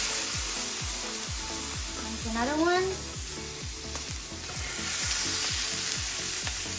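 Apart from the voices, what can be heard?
chicken breast frying in hot oil in a pan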